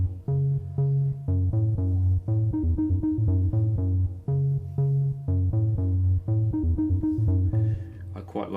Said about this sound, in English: we've got MK50 bass 1 on D2, which sounds like this.